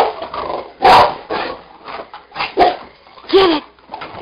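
Two Cane Corso dogs play-fight on an indoor springpole, letting out loud, close, rough growls and snarling bursts in uneven clusters, with quieter scuffling between.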